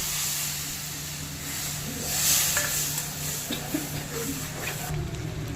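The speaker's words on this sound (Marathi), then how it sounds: "त्या पाण्याने आपण हा मसाला शिजवून घेऊया" Ground masala cooking in a pan as spice water from the grinder is poured in, giving a steady sizzle and hiss with stirring scrapes; a low hum runs underneath.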